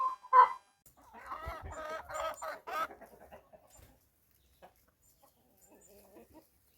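Indigenous free-range chickens cluck in a short burst of several calls, close by, then trail off into scattered quieter clucks with stretches of near silence.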